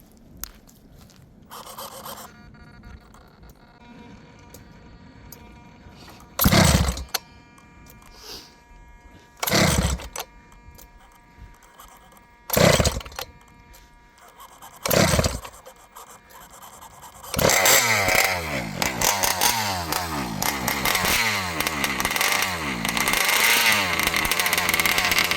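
An ALX 71cc small engine being tuned at the carburetor fires in a few short bursts separated by quiet gaps, then catches and runs continuously, loud and close, its pitch wavering as the throttle is worked.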